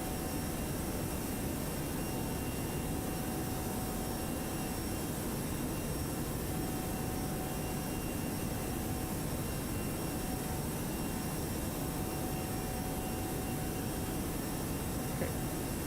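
Airbus A321 jet engines roar steadily in X-Plane 11 as the airliner climbs after takeoff, a constant broadband rushing drone with a faint whine, held at an even moderate level with no talk.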